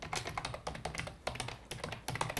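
Rapid, irregular keystrokes on a computer keyboard as a surname and first name are entered into a voter-list search, crisp close taps in quick bursts with brief pauses, no talking.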